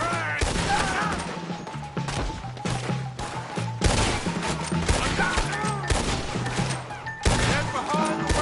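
Heavy shootout gunfire in Red Dead Redemption 2, dense repeated gunshots cracking at an irregular rhythm, loud and close, with voices of characters shouting now and then.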